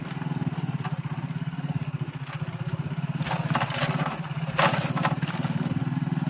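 A motorcycle ridden along a rough rural road through the villages of Kutch, its engine chugging in a steady pulsing rhythm close by, with rattling clatter and bumps over uneven ground.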